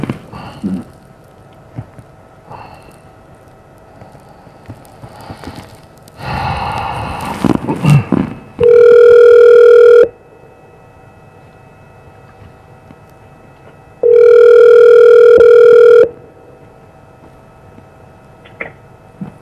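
A telephone call's tone sounds as two loud, steady electronic bursts, each about a second and a half long, separated by a pause, with faint handling noise and rustling in between.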